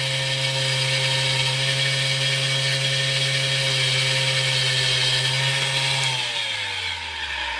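A power drill enlarges a hole in a lock wafer pin, a loud steady whine running continuously close by, then the motor winds down and its pitch drops at the end.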